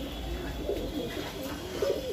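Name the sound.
racer pigeons cooing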